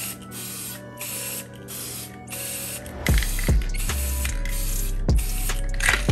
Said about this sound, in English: take your spray paint, spray it right on top of the water